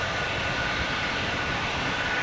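Jet engines of an Airbus A220-300 roar steadily during departure from Montreal, a continuous broadband rumble with a faint whine on top, loud and unbroken throughout with no voices.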